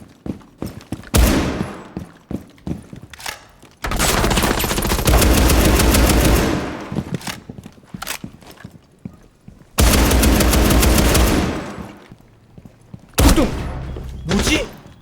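Machine gun fire in the video game Rainbow Six Siege rattles out in several long, loud, rapid bursts, separated by short pauses with scattered single shots.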